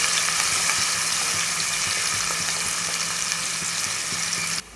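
Sliced onions and slit green chilies frying in oil in a pan, a bright continuous sizzle with faint stirring clicks, close and even, dropping suddenly quieter right at the end.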